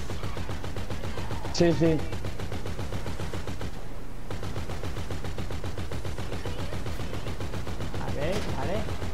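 Rapid gunfire crackles through a shootout in GTA V, fired from an armored Boxville van, dense and continuous over engine rumble, with voices talking across it.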